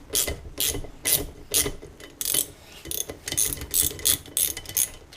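Ratchet wrench with a 17mm socket turning a bolt out of a KTM 390 Adventure footpeg mount held in a vise, loud close rhythmic clicking bursts in quick repeated strokes.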